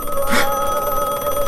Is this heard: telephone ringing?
yes